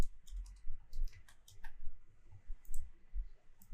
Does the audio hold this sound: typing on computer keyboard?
yes